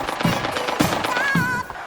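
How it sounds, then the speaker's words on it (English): Gunshots in a video game firefight near a wheat field, a rapid series of sharp cracks roughly every half second, fairly close and loud, over background game noise. "we heard gunshots coming from the wheat field"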